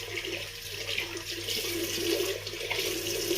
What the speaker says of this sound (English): We'll just dip it on the tap, cold water